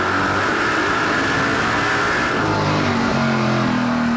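Onboard sound of Kevin Lacroix's NASCAR Pinty's Series stock car at the 2017 CRS Express 300, a loud, steady engine roar with shifting pitch as it revs through a corner, close and continuous.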